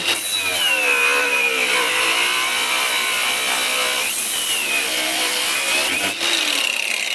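A Grosser GAG 120KB cordless angle grinder whines loudly and steadily while cutting on third speed, its pitch sagging and recovering under load, close up with no talking.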